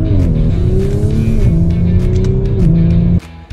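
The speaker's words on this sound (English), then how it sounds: "we actually just spun out the wheels there" The wheels of a 2022 Audi S4 spin out on pavement with a loud, sustained tire squeal over a revving engine, the pitch sliding in steps before cutting off abruptly.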